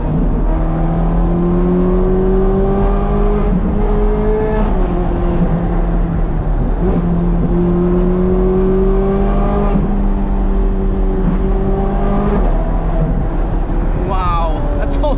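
A Ferrari 430 Scuderia with a naturally aspirated, highly tuned engine revs hard while driving a canyon road, engine pitch climbing through each gear then dropping on the shifts, loud and close throughout, with a voice speaking over it.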